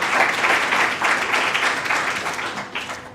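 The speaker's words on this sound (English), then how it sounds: "Let's give him a round of applause." Audience at a community engagement service excellence awards ceremony applauds a second-place winner, a steady wash of clapping that carries loudly through the whole stretch with slight swells.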